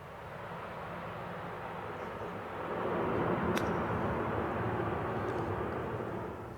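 Angel Flight Bravo 02 coming in to land, a broad steady aircraft roar that swells slightly louder midway and holds, heard from a distance outdoors with no voices.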